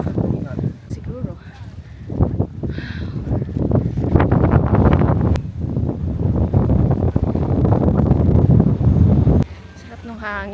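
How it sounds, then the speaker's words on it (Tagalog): Gusty wind in Batanes rushes loudly across the microphone in a low, rumbling roar, with people talking underneath. "Sarap ng hangin."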